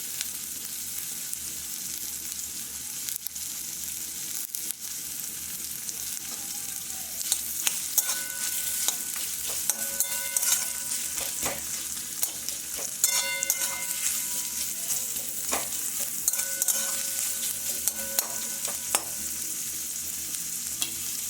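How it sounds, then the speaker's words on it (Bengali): Onions fry in oil, browning for a Bengali ghugni chaat, with a steady close sizzle and stirring scrapes that grow busier partway through, alone with no voices. "পেঁয়াজগুলো ভেজে নেব লাল লাল করে।"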